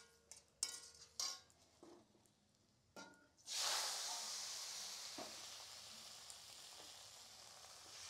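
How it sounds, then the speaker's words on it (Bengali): Water hits a hot pan holding garlic and dried red chillies, bursting into a loud sizzle that slowly settles into steady frying hiss, after a few soft utensil clinks and taps. "এখন দিয়ে দেবো জল।"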